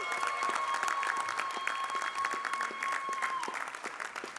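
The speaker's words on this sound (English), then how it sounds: "please give a round of applause to the 2024 class of the Natchez Mid-Atlantic Silver and Gold Circle Society" Audience applause fills an awards ceremony honoring an Emmy Silver and Gold Circle class, a steady dense clapping from a large crowd that holds throughout, with a faint sustained tone running beneath.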